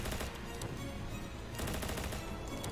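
Rapid machine gun fire from the video game Ancient Warfare 3, loud and continuous, with dense rattling bursts and a brief gap in the middle.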